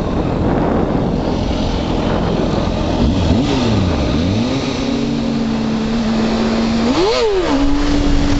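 A motorcycle engine winds up through second gear toward redline, a loud, close drone whose pitch climbs, dips and climbs again, ending held high.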